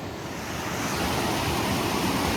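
Class IV rapids on the Kennebec River roar as continuous broadband whitewater, a dense steady rush that builds slightly and stays loud with no pauses.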